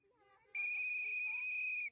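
A whistle is blown once in a single sharp, sustained shrill blast lasting over a second, following faint voices talking in the background.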